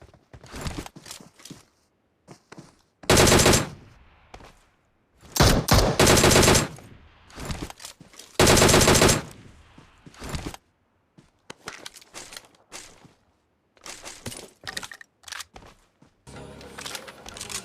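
Loud automatic gunfire in the mobile game PUBG Mobile bursts out in several sustained volleys, separated by quieter stretches of footsteps and game sounds.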